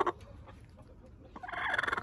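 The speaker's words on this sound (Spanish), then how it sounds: "ya van a empezar a nacer los pollitos." Newly hatching chicks give faint peeps, then a quick run of rapid, high-pitched cheeps rising near the end, close and without talk.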